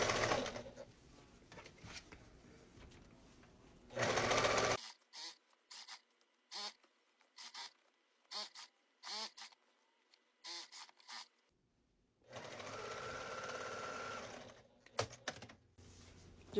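A sewing machine stitches around the liner of a foam-lined pumpkin trick-or-treat bag in short, clattering bursts separated by pauses, heard close in a quiet room.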